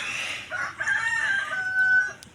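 A six-month-old Asil rooster crows once, close and loud, a long drawn-out call with no voices around it.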